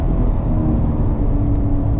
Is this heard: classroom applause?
no